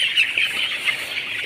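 Chickens kept in a heated brooder and adapting after the heat is removed cluck and chatter continuously. The calls overlap in a busy, fairly close flock murmur with small peaks.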